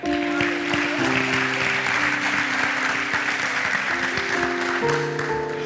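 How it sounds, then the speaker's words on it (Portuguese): Congregation at a church service claps steadily while sustained keyboard or organ chords play beneath, the applause dense and even throughout. "Pode aplaudir a Ele nesse lugar?"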